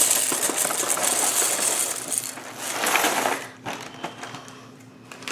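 Four egg whites being whisked in a bowl for fried ice cream batter, a steady busy clatter that stays loud for about three and a half seconds and then thins to sparser, softer taps.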